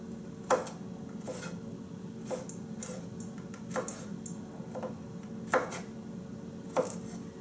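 Sharp knife strokes chop garlic on a board in a home kitchen, several isolated cuts spaced a second or more apart, fairly close over a quiet hum.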